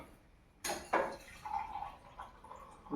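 Water poured from a glass onto rice for cooking, heard as a short splash and clink followed by a few softer liquid gurgles and drips that trail off, quiet overall.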